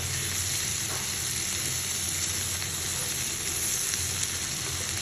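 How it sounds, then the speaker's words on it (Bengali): Shrimp fry in a pan, giving a dense, continuous sizzle that stays loud and close for the whole stretch, with no voices over it. "আমার চিংড়ি মাছটা ভাজা হয়ে গেলো"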